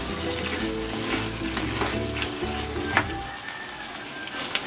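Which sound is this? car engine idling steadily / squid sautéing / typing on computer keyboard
squid sautéing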